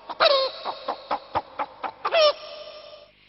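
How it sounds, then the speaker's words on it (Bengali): Hens cluck while pecking at their feed, a string of about ten short, close clucks in an uneven rhythm, opening and closing with longer drawn-out calls, then quiet. "অর্থাৎ মুরগিরা খেতে খেতে কিরকম ডাকে।"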